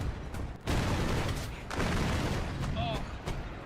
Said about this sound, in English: I think there's a guy shooting at you